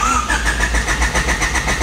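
A 1992–1995 Honda Civic engine converted from automatic to manual cranks with a rapid rhythmic starter whir, loud and close, then catches.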